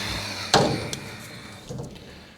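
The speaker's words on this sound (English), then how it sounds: "Close the door." A C10 pickup door swings shut in a garage workshop with one solid, close thud, followed by a few faint knocks and rustles.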